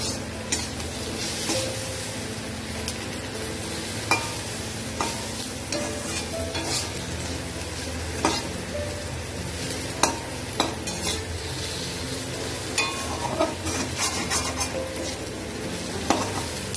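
Potatoes, pointed gourd and onions frying together in a pan, a steady oily sizzle broken by frequent scrapes and clinks of a spatula stirring against the metal, close and continuous with no talk.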